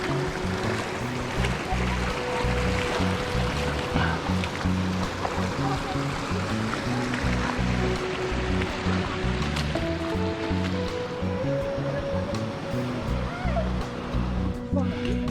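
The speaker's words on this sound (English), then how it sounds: "Another rainstorm stream crossing here." A normally dry wash carries rainstorm runoff at a stream crossing near the Escalante River, giving a steady, full rushing of water that stays close and constant throughout.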